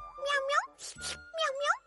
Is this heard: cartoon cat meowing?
yes